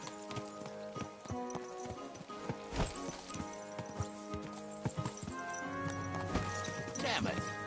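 Horse hooves clip-clop steadily in the Kingdom Come: Deliverance 2 video game, a busy rhythmic beat under game music, ambient noise and voices, with a horse briefly whinnying near the end.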